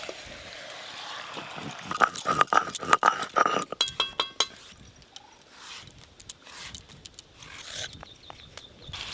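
A spoon scrapes and clinks against a pot while chicken is stirred with whole garam masala and a ground spice paste, giving quick rhythmic knocks that thin into quieter scraping.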